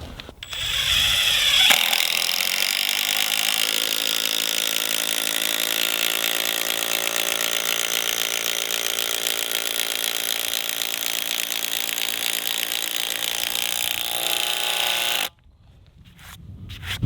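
Makita 18V LXT brushless impact driver with a 5Ah battery drives a long T40 bolt through material in one loud, sustained, steady whirring hammer run of about thirteen seconds that stops abruptly, followed by brief handling clicks.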